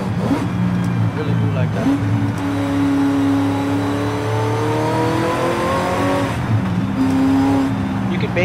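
A Chevrolet Camaro Z28 in Forza Horizon 5 revs its engine in a steady, loud, rising drone that climbs in pitch through the gears, with someone talking over it.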